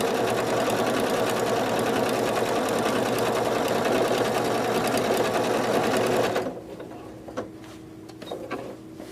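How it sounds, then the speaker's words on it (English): A sewing machine runs steadily, stitching binding onto the edge of a quilt. Its dense, even motor hum is loud and continuous for about six seconds, then stops abruptly, leaving faint clicks and handling noises. "you're going to stop your stitching as soon as you get to the edge of your quilt"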